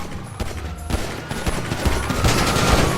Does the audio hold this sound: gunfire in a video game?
yes